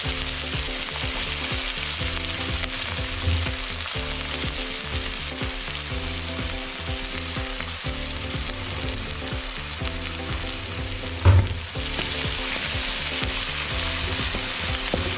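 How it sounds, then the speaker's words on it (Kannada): Onions fry in a pan with a steady, loud sizzle that runs throughout, with a brief stir or clatter near the end. "ನೀರುಳ್ಳಿ ಅಂತ ಫ್ರೈ ಆಗೋದು."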